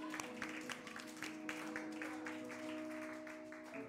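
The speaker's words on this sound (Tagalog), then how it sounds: "Malakas na palakpak sa Diyos sa buhay!" A church congregation claps to praise God, with many hands beating in a loose rhythmic pattern over a sustained keyboard or organ tone.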